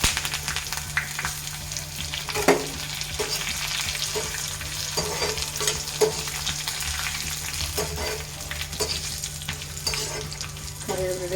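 Curry leaves fry in hot oil in a pan for a Kerala okra stir-fry, giving a continuous crackling sizzle with scattered sharp pops and stirring knocks throughout, and no voices.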